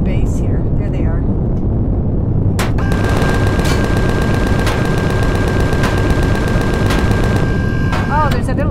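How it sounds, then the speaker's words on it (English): A turret gun fires in Empyrion, a rapid steady stream of shots over a loud, busy game soundscape with rumbling, explosions and a sustained tone, as voices talk over it. "There's a little turret gun."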